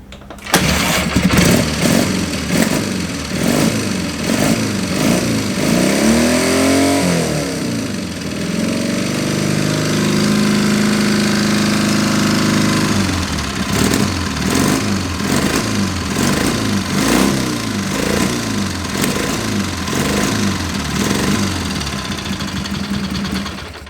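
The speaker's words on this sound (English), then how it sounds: "I'll try and start the bike for you." A 1959 Velocette Valiant motorcycle engine cranks and catches, then runs with a loud close rhythmic thumping, rising and falling as the throttle is blipped, settling into a lumpy idle in between.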